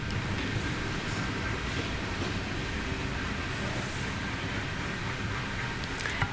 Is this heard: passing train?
yes